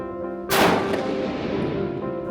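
A single loud, close shot from a .308 bolt-action rifle firing Winchester Whitetail 150 grain ammunition cracks sharply, then its echo rolls away slowly.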